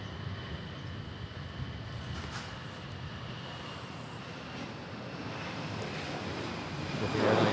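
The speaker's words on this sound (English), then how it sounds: "The Airlines taking off." A Kuwait Airways airliner takes off at Manila Airport with a steady, fairly distant jet roar that swells louder in the final second, heard alone without voices.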